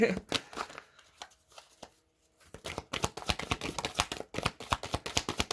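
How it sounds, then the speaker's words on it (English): Tarot cards are shuffled by hand in quick, crisp riffling bursts, close and fairly quiet, with a short pause before a longer run of rapid snapping flicks. "I can shuffle better now because I got my finger back."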